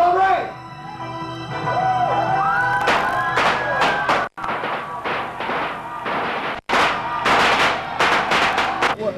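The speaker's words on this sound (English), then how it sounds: "We take 50 firecrackers to the naked skin." A rapid string of sharp firecracker pops crackles in bursts against bare skin in a sideshow circus act, with people talking and shouting over and between the bangs.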